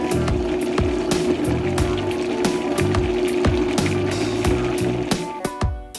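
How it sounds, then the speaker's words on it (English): A blender whirs steadily with a rattling, clattering edge as it purées olive oil, garlic clove, salt and shredded Parmesan for pesto, running loud and continuous for about six seconds before tapering off at the end. "I'll blend this portion first before adding the basil."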